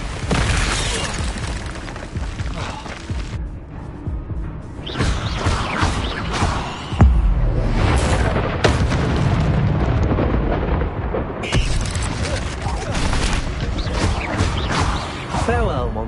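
Fire spells cast repeatedly in Hogwarts Legacy erupt with loud whooshing blasts and crashing bursts layered over dense combat noise, with a voice talking over them.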